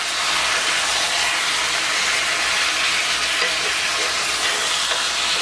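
Steady, loud sizzling of brown sugar in a hot pan with sweet potatoes, a continuous bright hiss of frying with no voices.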